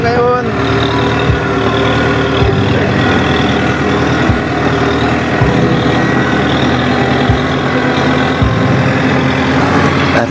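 A Kubota 90hp tractor drives on a corn farm, its diesel engine holding a steady, close rumble throughout, with faint regular knocks.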